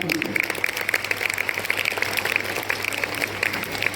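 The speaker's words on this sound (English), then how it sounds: "Students, let us give once again a loud applause to all our teachers." Children's Day celebration audience applauding the teachers, steady crowd clapping throughout with an announcer's voice heard over it.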